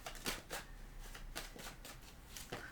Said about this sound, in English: I just want to make sure I shuffle.